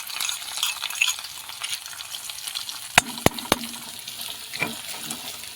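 Hot oil hisses steadily as a ginger, garlic and chili spice paste fries, broken midway by three sharp metallic taps in quick succession and a later softer clink.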